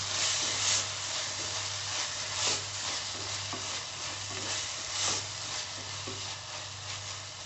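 Chopped tomatoes with a pinch of salt fry in a pan for dal fry, giving a steady close sizzle and hiss with soft stirring scrapes recurring throughout.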